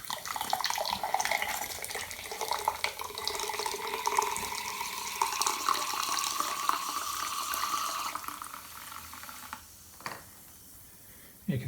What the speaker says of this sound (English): So when we dispense some fizzy water out here, it may be very fizzy because it's quite warm.